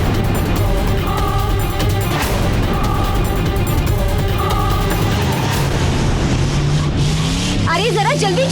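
A car driven fast on a road toward the hills gives off a steady engine drone and road roar, close and loud, under voices and other background sound.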